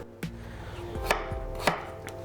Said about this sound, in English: chop them like this, so medium cubes.